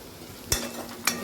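Onion and tomato fry in a pan under a low steady sizzle, broken by two sharp scraping stirs of a utensil against the pan.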